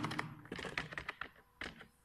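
Keys clacking on a computer keyboard as English text is typed, a quick uneven run of close, crisp taps with short pauses between bursts.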